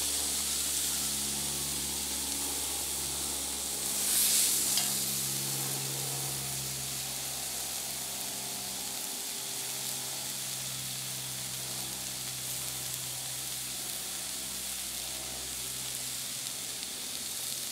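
A Chateaubriand beef tenderloin sears in a hot Dutch oven, giving a continuous close sizzle with soft hissing, a brief louder spurt near the start, and a low hum underneath.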